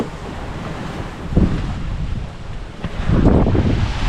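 Waves wash ashore in soft surges, one swelling around the middle and a louder one near the end, blended with steady wind rumble.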